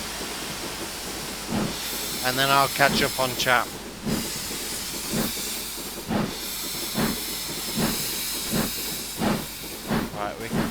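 A 2MT steam locomotive on Scottish western lines in Train Simulator hisses with steam while rhythmic chuffs repeat through the clip, and someone talks over it early on.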